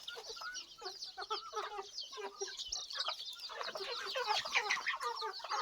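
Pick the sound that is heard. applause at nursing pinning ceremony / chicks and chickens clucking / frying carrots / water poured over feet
chicks and chickens clucking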